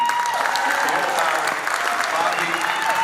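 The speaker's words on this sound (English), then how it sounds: "can we have another big round of applause?" Sustained, dense applause from a gala audience at a 25th anniversary celebration, steady and loud throughout with a faint voice underneath.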